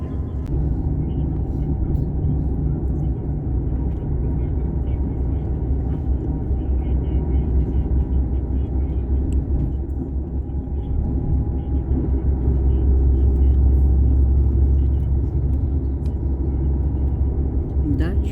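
Steady low road rumble and engine drone inside a vehicle travelling on a motorway in Poland, continuous and fairly loud throughout with a slight swell near the end.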